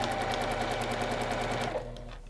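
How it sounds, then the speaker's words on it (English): A sewing machine stitching quilt pieces runs in a fast, steady mechanical rattle close by and fairly loud, then slows and winds down near the end, with no talking over it. "So I'll let Lisa finish sewing that one"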